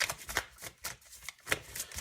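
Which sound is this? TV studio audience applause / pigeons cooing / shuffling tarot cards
shuffling tarot cards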